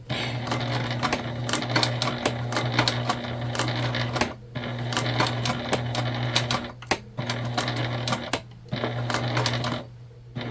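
A sewing machine stitching a tote bag, running in long steady bursts of rapid mechanical clatter with brief pauses between runs, loud and close, over a low motor hum, with no talking.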